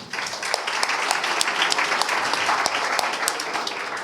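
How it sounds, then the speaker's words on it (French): Sustained audience applause fills a conference hall for collaborators in the room, dense steady clapping from many hands at a fairly loud, even level throughout, with no voice over it. "je pense que ça, on peut les applaudir"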